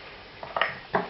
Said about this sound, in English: we're going to stir this around a little bit, get it started cooking